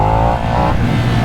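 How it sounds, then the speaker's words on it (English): A KTM Super Duke 1290 R motorcycle engine, a 2022 Evo, held at a few thousand RPM, droning loud and close with a throttle blip, a brief continuous burst without talk. "just get it up to a few thousand RPMs and blip the throttle"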